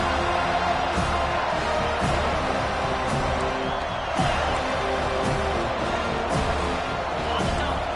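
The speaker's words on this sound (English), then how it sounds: "Decibels rising as the crowd gets behind this defense on third down" A dense stadium crowd roars steadily during a college football video game, a broad wash of cheering and noise swelling on a third-down defensive stand, with a commentator's voice running over it.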